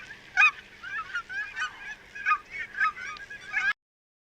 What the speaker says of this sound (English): Goose cackle.